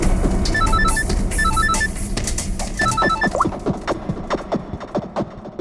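An outgoing phone call rings out in repeated electronic ringback bursts, loud and near in short patterned pulses, followed by a run of soft rhythmic thumps as the ringing stops.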